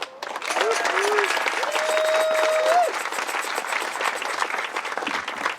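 A crowd claps steadily through a library opening ceremony, dense applause under a speaker's voice, easing slightly toward the end.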